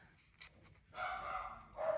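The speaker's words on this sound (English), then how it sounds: "Oh boy, the dogs have been barking today." Dogs barking in a room, a couple of short yips early, then louder, sustained barking and whining that comes and goes over a couple of seconds, fairly close and alone without talk.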